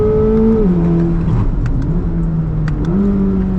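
A 2025 Chevrolet Corvette ZR1 accelerates hard, its loud, close engine note climbing in pitch, dipping briefly at a shift, then rising again over a steady roar.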